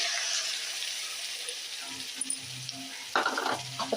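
Tomato paste fries with ginger garlic paste for a chicken gravy, a soft steady sizzle at moderate level, with faint stirring scrapes and a few light utensil knocks toward the end.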